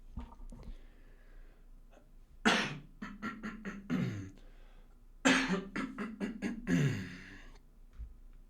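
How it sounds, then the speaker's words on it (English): Two rough throat-clearing bursts a few seconds apart, each followed by short breathy rasps, close to the microphone in a quiet room. "I'm going to clear my throat and drink a bit of water."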